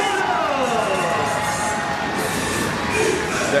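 A packed arena crowd at a Philippine MPBL South Division Finals basketball game, Biñan versus Quezon, roars and cheers loudly and without a break. The dense wash of noise stays steady throughout, with scattered shouts rising out of it.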